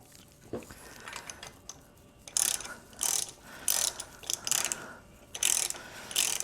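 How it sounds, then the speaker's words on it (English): A ratchet fitted with a 3/4 socket runs down the bolts on a Harley-Davidson CV carburetor: bursts of rapid metallic clicking come in several separate runs with pauses between them, close and fairly loud, and no one speaks. "So we got our 3/4 socket on here. Just gonna run those down again till snug"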